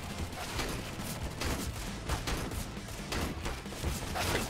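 Counter-Strike gunfire comes as a rapid series of sharp shots with overlapping bursts, fairly faint behind the game's background noise.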